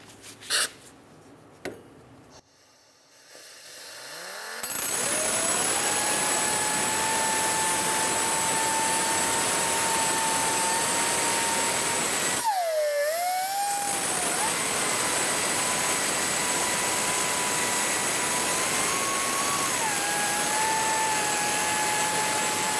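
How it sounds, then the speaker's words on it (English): A cutoff wheel on a grinder screams steadily as it scores the inner race of a wheel bearing on a 2003-2007 Honda Accord hub, starting after a few clicks, briefly dipping in pitch midway as the cut bites, loud and close. "Using a cutoff wheel, we're going to make a mark in our inner race."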